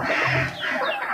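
Several hens clucking nearby, soft overlapping calls rising and falling without any talking.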